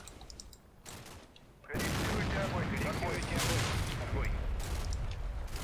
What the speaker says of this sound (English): that's that 120mm mortar over there directly firing on them